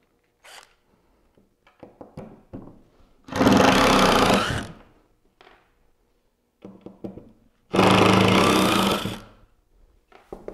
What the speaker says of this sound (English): You've got to love these electric hand drills.